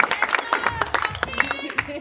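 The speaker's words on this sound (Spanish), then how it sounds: "un fuerte aplauso" Crowd at a political rally clapping, a brief burst of scattered hand claps close by with voices talking over it.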